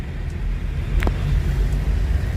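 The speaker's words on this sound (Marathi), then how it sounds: "आणि मध्ये चाललेलो आहोत आम्ही गाडी घेऊन" A car rolls through the main gate of Padmanabhaswamy temple in Thiruvananthapuram, its engine a steady low rumble that stays close and even, with no talking.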